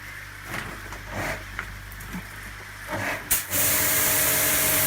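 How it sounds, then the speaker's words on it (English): A pressurized water spray gun hisses steadily after some quieter outdoor bumps, ending in a loud continuous jet close by, cleaning Japanese matting at a garden pond. "As well as cleaning the Japanese matting with the spray gun, I also give the barrels a good flush."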